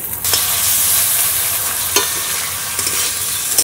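Ginger garlic paste fries in a pan for aloo paratha, with a steady close sizzle and occasional scraping stirs of a spatula, no talking.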